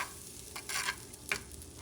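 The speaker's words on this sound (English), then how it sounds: "I'm melting some butter," Unsalted butter melts in a hot pan, giving a faint soft sizzle broken by a couple of light scraping stirs.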